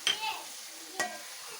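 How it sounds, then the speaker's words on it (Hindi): Soft sizzling of minced meat (keema) frying in a pan over a low flame, with two brief stirring scrapes over a quiet, steady hiss. "ये लो फ्लेम पे हमारा कीमा साथ साथ फ्राई हो रहा है"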